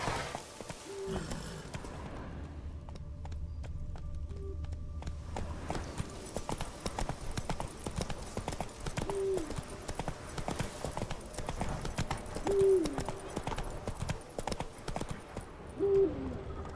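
Roach the horse in The Witcher 3 moves at a steady pace, hooves clip-clopping in a continuous rhythm over a low rumbling backdrop, with a few brief hooting tones rising above it.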